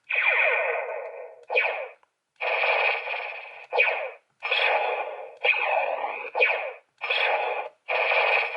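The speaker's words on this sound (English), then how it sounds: "it's basically just a projectile sound for the Cosmic Morpher, because it's just laser sounds" Laser projectile effects for the Cosmic Morpher weapon in a game, about nine short zapping bursts with a metallic, echoing buzz, fired in an uneven rhythm with brief gaps, alone and moderately loud.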